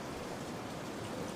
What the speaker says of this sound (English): By the time the clock strikes 9, the island has surrendered completely to the rain.